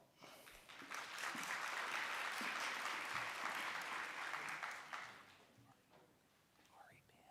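Applause from the audience at a nursing graduation ceremony swells quickly and holds for several seconds as a graduate is called forward, then tapers off into soft murmuring and faint movement in the hall.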